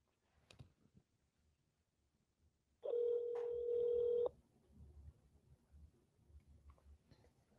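A steady telephone tone sounds for about a second and a half, loud and alone, between faint clicks and handling noise as a phone call is placed.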